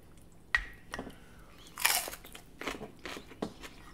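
Raw pepper dipped in miso paste being bitten and chewed up close, with one sharp crunch followed by a series of wet, crackly chewing bursts at an uneven pace.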